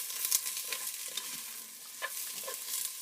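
Onions sizzle softly as they fry and soften in a pressure cooker pot, with a faint steady hiss and a few light scraping stirs, close and quiet, no voices.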